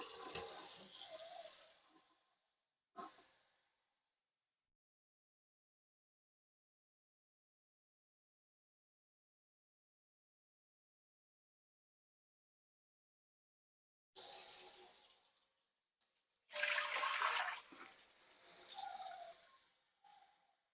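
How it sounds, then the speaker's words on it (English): Tap water runs into a home canner being filled with cold water for raw-pack canning, a rushing flow in short bursts with a long silent gap between them. "So we're going to put 3 quarts of water in here."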